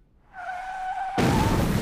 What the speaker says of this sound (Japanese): りっちゃん家の車擦っちゃった